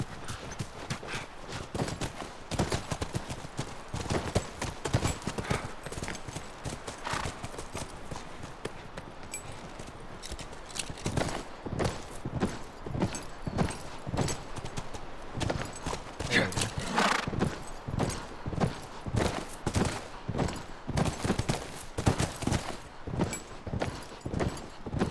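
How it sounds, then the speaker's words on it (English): Horses walking in The Last of Us video game, a steady clip-clop of hooves in an even rhythm throughout, close and moderately loud, with someone talking over it. "Come on, back to the horses."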